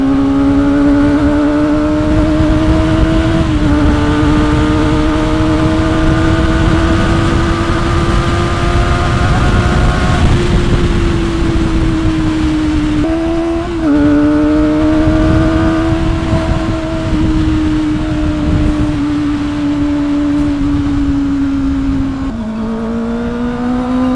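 An inline-four motorcycle engine, a Kawasaki ZX-25R, drones loudly and steadily while riding, its pitch rising and dipping through gear changes, with heavy wind rumble throughout.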